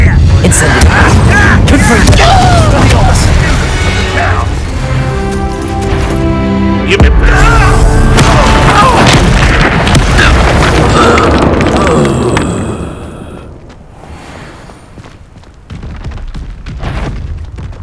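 Incendiary fire spell explosions in Hogwarts Legacy, heavy booming blasts and whooshing bursts layered with game music and effects, loud and dense before fading to quieter rumbling, with a voice speaking over it.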